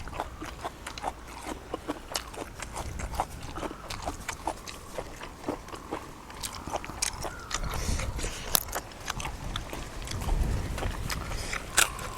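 Crunchy fried food being chewed close up, with a steady run of crisp bites and munching over about twelve seconds and no talk over it.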